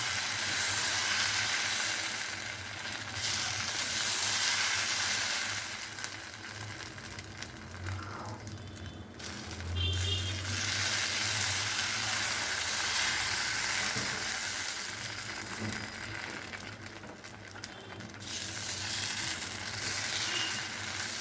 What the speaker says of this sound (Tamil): இப்போ நம்ம பெரிய தோசை வாக்கலாம்.